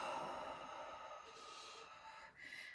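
A person slowly breathing out during a calming breathing exercise, a soft, airy exhale that fades and then resumes, close and quiet with no speech.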